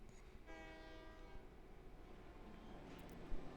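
A train departs in the Paper Mario: The Thousand-Year Door video game, its steady horn tone sounding clearly over a continuous rumbling rail bed with faint clatter, fairly loud and without talk.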